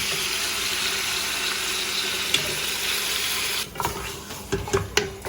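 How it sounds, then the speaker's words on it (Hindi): A little water poured into a cooking pan of ginger, garlic and spices over medium heat, a loud continuous rushing hiss that cuts off near the end, followed by a few scattered clinks and sizzles. "थोड़ा सा पानी इसमें ऐड किया है क्योंकि मसाले जाएंगे"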